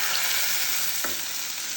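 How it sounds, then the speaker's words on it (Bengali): Onions frying in hot oil as a tempering, a dense continuous sizzle with one faint utensil tap partway through, no talking. "তো এদিকে দেখেন আমার পেঁয়াজের ফোড়ন হয়ে গেছে"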